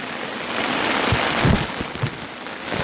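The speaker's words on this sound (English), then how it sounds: "it's raining cats and dogs" Heavy rain pours steadily onto a tarp over a hammock at a canoe campsite, a dense, constant close hiss broken by a few louder drips and splats.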